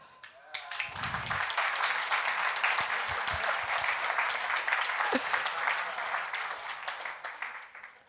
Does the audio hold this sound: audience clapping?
yes